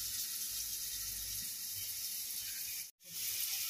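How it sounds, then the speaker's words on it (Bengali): Potatoes frying in a pan, a steady close hiss and sizzle of hot oil that runs continuously, broken by a brief dropout near the end. "আলু ভাজতে বসিয়ে দিয়েছি।"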